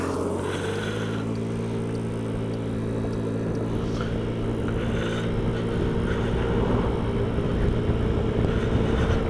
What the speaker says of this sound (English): Look at the cars coming.